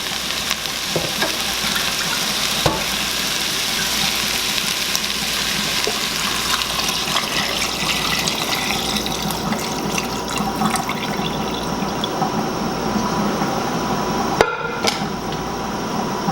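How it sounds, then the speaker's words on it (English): Broth poured into a pot of chicken stew with vegetables and spices, a steady splashing, running-liquid wash that holds loud and continuous throughout, with a few sharp clinks of metal on the pot. "And then we add your broth."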